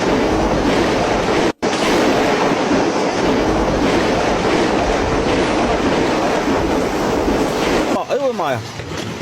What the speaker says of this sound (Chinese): 这简直下的是大石头。